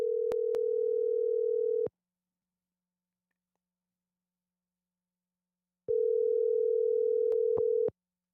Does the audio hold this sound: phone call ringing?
yes